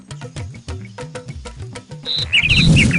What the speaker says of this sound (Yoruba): bàbá mi ohun ẹyẹ mò ń gbọ́ lónú àdó yìí